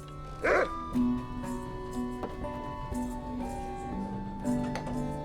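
A dog in the Lord of the Rings Online video game gives a couple of short barks and yips near the docks, over a steady ambient game soundscape.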